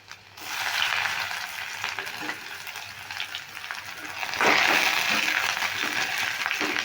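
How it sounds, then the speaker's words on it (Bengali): Chopped garlic and onion frying in hot oil in a pan for masoor dal, a steady close sizzle that swells louder partway through as the pieces are stirred, with no voices. "পেঁয়াজ আর ওই ভালো করে ভেজে নেব"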